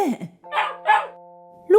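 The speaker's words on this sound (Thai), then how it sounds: "มาขี้อ้อนเห่าอย่างตื่นเต้นและหวาดกลัว เหมือนกำลังมีสิ่งอันตรายเข้ามาใกล้บ้าน" A dog barks in a few short, excited bursts with a yelp at the end, close by, alongside a sustained tonal background.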